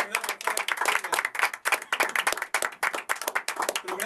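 A live audience claps for a performer during a Spanish-language broadcast program, loud, rapid and uneven hand claps continuing throughout with no speech over them.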